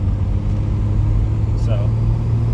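Turbocharged 3800 V6 in a G-body Pontiac Grand Prix with a T56 manual swap, burbling steadily at about 2,000 RPM from inside the car as a low, constant rumble that fills the cabin.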